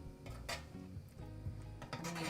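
A spatula scrapes across a pan while jack-o'-lantern stuffed peppers cook, giving a few soft, uneven scraping strokes, fairly faint and with no talk over them.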